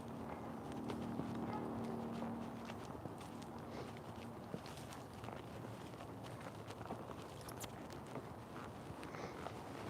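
Hooves of a mustang mare on an outdoor trail, steady walking footfalls repeating close by over a low rumble of wind and ground noise throughout.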